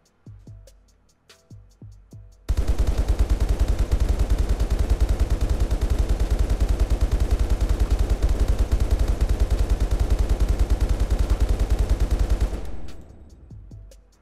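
An FN MAG 7.62 machine gun in the game Unturned fires a long sustained burst of rapid, evenly spaced loud shots lasting about ten seconds, preceded by a few single clicks and ending abruptly.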